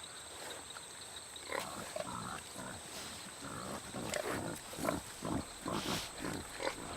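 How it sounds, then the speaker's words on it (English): Wild peccaries snuffling and grunting in an equatorial Colombian cloud forest, a series of low, rough nasal snorts growing more frequent over a steady high insect drone, fairly quiet and with no talk. "Resembling wild pigs in behavior and appearance, peccaries never stray too far from water."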